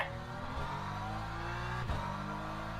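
A BMW race car engine in the racing game Le Mans Ultimate hums at a steady pitch with harmonic whine, a brief rev swelling near the end.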